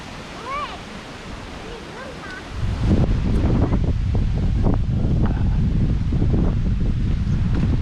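Strong wind gusts buffet the microphone outdoors at a pond, rising suddenly into a loud continuous roar after a quieter stretch with a voice and birdlike chirps.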